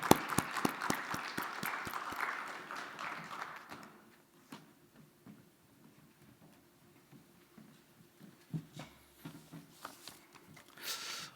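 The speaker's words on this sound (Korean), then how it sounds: "우리 나오실 때 박수 한번 부탁드립니다" A small group claps for about four seconds as the mayor of Changwon steps forward at an Easter online worship service, the applause fading into near silence broken by a few faint taps and shuffles.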